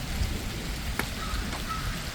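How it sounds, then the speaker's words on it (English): Rain begins falling around a cabin as a steady, even patter and hiss that holds at a constant moderate level, with one brief sharper drop-like tick near the middle. "The rain has begun."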